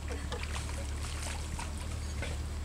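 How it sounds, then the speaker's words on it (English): Continuous rushing, lapping water with small splashes close by in crocodile-inhabited water in Costa Rica, steady throughout with no voices. "Careful with the splashing."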